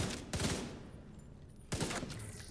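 Video game gunfire aimed at a bear comes in two short bursts of rapid automatic shots, separated by a brief lull, fairly close and sharp with no talking.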